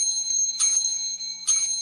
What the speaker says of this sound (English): that's a straight up triple bell for you